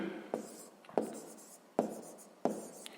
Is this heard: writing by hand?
yes